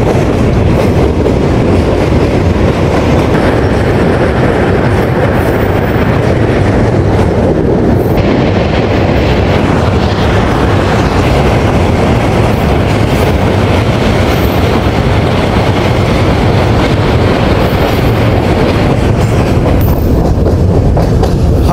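Rupsha Express train rumbling along the rails near the Padma River and Hardinge Bridge, a loud, continuous close-up roar of wheels and carriages with steady clatter throughout and no voices.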